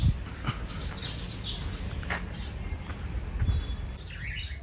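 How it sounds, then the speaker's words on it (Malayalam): Birds in a resort aviary give scattered, fairly close chirps and tweets over a steady background, with a few soft thumps and a quick flurry of calls near the end. "ഇത് ഇവിടുത്തെ കിളികളുടെ കൂടാണ്"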